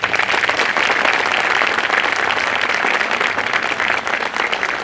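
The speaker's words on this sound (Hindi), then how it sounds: "तो एक जोरदार तालियों से" Loud, sustained applause from the audience at a Bar Council enrolment meeting, a dense, even roar of many hands clapping together from start to finish.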